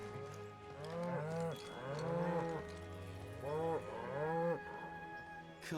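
Cattle mooing in the video game Final Fantasy 7 Rebirth, several long, loud bellowing calls in succession, close and clear with no talk over them.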